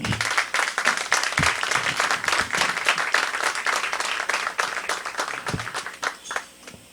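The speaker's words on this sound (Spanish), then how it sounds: "Un aplauso." Audience applause for a speaker being introduced at a Spanish-language talk, a dense, steady roar of many hands clapping close by that fades out near the end.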